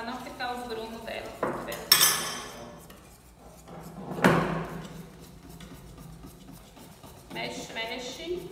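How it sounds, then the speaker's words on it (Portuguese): Metal spoon clinks and scrapes against a pot while corn cream for a Belgian cream dessert is stirred, a few sharp knocks standing out among softer scraping, with a voice talking throughout. "Mexe o creme de milho de a mais tem que ser bem para não ficar os grumos dela"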